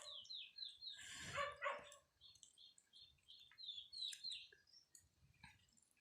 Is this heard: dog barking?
yes